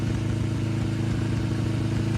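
A Suzuki GS500 cafe racer motorcycle engine revving loud and close, a steady throbbing drone with no talking.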